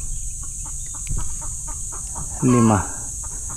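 Chickens cluck steadily around a farm under a constant high hiss, with one louder drawn-out call from a single hen rising near the end; someone speaks briefly.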